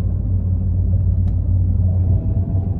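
A Mini car engine idling cold with a steady low rumbling drone, close by and fairly loud, with no talking.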